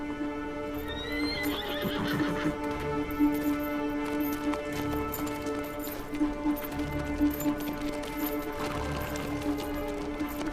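A horse whinnies clearly and its hooves clip-clop at a steady walking pace nearby, with the neigh rising above the hoof rhythm over a steady background hum.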